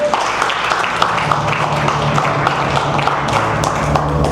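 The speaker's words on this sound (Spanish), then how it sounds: "denle un aplauso a Él." A church congregation applauds during a Spanish-language sermon, a loud, close mix of claps and taps with some thumps, continuing steadily without speech.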